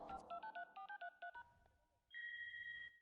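Cartoon telephone dialing: a quick run of about ten clipped touch-tone beeps at an uneven pace, followed by a steady ringback tone, fairly faint and heard alone.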